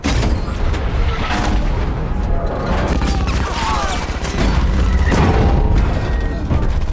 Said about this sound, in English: the tank's main gun opens fire, destroying 2 Soviet tanks